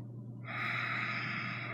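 One slow, deep breath drawn in during a relaxed shoulder and upper back mobility exercise, a soft steady airy rush close to the ear, rising then holding.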